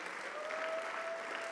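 Church congregation at the ICGC Holy Ghost Temple clapping together in a thick, continuous burst of applause, steady and moderately loud, with no speech over it.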